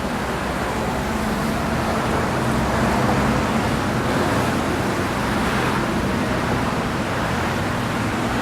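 Cars pass along a busy city street at night, a dense and continuous roar of traffic close by with gentle swells as vehicles go past.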